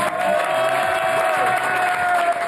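Steady applause from a theatre or studio audience, dense and continuous for the whole stretch, fairly loud and even, with no talking over it.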